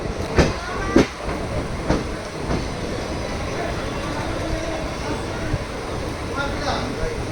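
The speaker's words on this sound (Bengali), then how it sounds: "আন্দুল স্টেশন থেকে ট্রেন ছেড়ে দিল" A passenger train on the Kolkata–Digha line pulls out of Andul station, its steady rumble and occasional clatter running throughout, with a few sharper knocks early on and voices talking over it.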